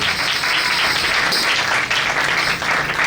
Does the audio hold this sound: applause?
yes